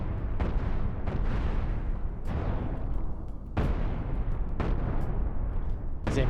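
Spaceship cannons fire in the space combat game Cosmoteer, a run of heavy booming shots in irregular bursts over a continuous rumbling battle bed.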